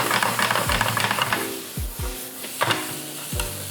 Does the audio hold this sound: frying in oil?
yes